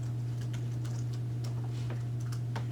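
Fast typing on a computer keyboard while coding in Node.js and React, a rapid, steady patter of light key clicks over a constant low electrical hum, with no talk.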